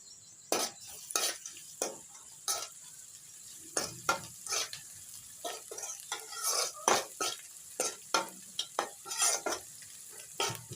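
Crushed garlic cloves and curry leaves fry in a pan, stirred with a metal spoon that scrapes and clinks in sharp, irregular bursts over a soft steady sizzle, close and moderately loud, with no voices.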